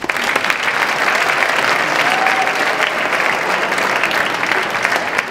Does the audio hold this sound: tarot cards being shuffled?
no